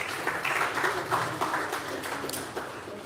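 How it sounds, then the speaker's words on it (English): Conference audience at a facility management practitioners' event applauding, a fairly soft, steady wash of many hands clapping across the hall, heard from some distance. "Please, let's give them another round of applause"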